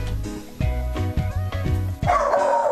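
A small dog barks and yips several times in quick succession, close and fairly loud, with a short whimpering, whining tail at the end.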